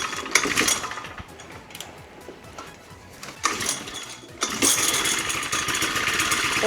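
A small car engine cranks and catches right after an engine swap, its starting bursts followed by a steady, close idle with a mechanical whir and no talk.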